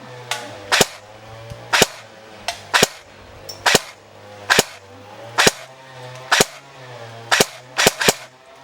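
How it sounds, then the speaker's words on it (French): A Kriss Vector airsoft electric gun fires about ten sharp, loud cracks in short full-auto bursts and single pops, with a low motor hum running steadily underneath. "C'est un rafale en auto."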